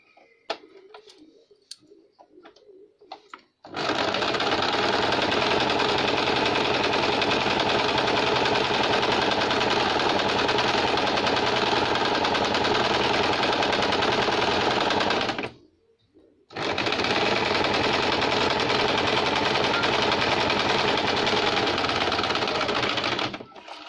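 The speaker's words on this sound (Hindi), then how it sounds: "यहाँ हमने ये जो लाइनिंग को हमने गोलाई में सिलाई दी थी" A sewing machine stitches the lining of a baby cap in long, loud, rapid runs. One pause of about a second breaks the run midway. Faint handling noises come before the machine starts, and no one speaks.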